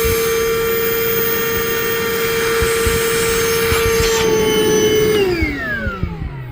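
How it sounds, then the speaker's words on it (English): Shop vac attached directly to the end of a tube on a FLEX lane machine drip pad, a loud steady whine and rushing airflow that winds down in pitch as the motor shuts off near the end. "I'm gonna try and put the shop vac directly on the end of the tube."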